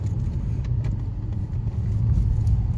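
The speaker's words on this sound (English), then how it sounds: "I guess this is what it sounds like inside the car with the muffler delete" Cabin drone of a Vauxhall Astra H 1.4 SXi with its rear muffler (backbox) removed, a steady low exhaust rumble heard from inside the car, moderately loud and even with a slight swell toward the end.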